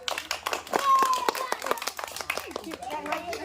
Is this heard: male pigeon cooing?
no